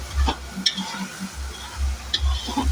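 Chicken with ground spices is stirred in a pan, with rhythmic low scraping thuds of the spatula against the pan under a faint sizzle, a few light clicks of metal in between, no speech.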